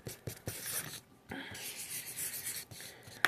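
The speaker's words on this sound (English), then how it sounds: "Let me just draw this real quick." A pen or marker drawing on a notepad, with close scratchy strokes in short bursts separated by brief pauses.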